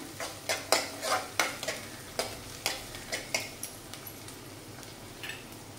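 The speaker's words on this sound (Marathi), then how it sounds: "तर आपण कांदा, काजू आणि बडीशेप, जिरा हे चांगलं परतून घेऊया।" Onion, cashews, fennel seeds and cumin stir-fried in a pan for samosa filling, with a spatula scraping in a steady series of soft strokes over a faint sizzle, fading toward the end.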